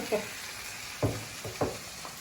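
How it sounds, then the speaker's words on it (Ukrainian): Onion and carrot sizzle in a frying pan for a dumpling filling, a steady quiet hiss broken by three or four louder stirring scrapes at uneven intervals. "Все, готуємо нашу зажарочку до кінця."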